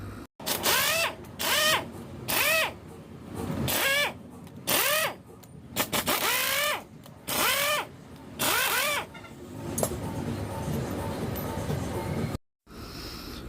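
A power tool backs out the screws from a Honda TMX125 Alpha motorcycle crankcase in about eight short, whining bursts whose pitch rises and falls, then gives way to a steadier mechanical hum close by.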